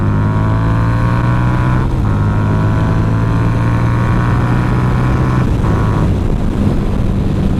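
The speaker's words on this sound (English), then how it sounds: "That's one thing I love about this bike, is it sounds fucking good." A Harley V-twin motorcycle engine runs steadily while riding, a loud continuous low rumble with harmonic drone that holds throughout, with brief dips in pitch like gear changes and no voices.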